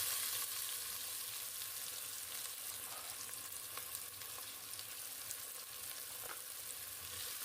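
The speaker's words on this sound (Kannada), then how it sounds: "ಈರುಳ್ಳಿನ ಸ್ವಲ್ಪ ಗೋಲ್ಡನ್ ಬ್ರೌನ್ ಕಲರ್ ಬರೋ ತನಕ ಫ್ರೈ ಮಾಡ್ಕೊಳ್ಳೋಣ" Onions frying in oil in a pan for kadale kalu pulav, giving a steady dense sizzle with faint crackles throughout, fairly quiet and continuous, with no talking.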